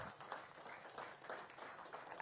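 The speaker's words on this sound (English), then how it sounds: "Please give them a round of applause." A small audience at an outdoor official press briefing gives faint, scattered applause, the claps thin and distant throughout.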